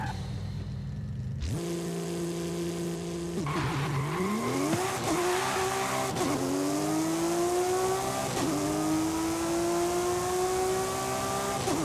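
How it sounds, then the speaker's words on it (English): In Forza Horizon 5, a rear-wheel-drive car's engine, bored out from 2.7 to 3 liters, fires up and revs hard, its loud, rising whine climbing through repeated gear shifts with brief dips between pulls. "This 3-liter loves to rev."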